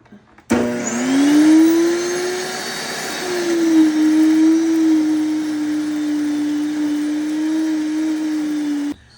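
A NutriMill Impact grain mill grinds grain with a loud, steady motor whine that starts abruptly and holds a constant droning pitch, then cuts off near the end; no voices are heard.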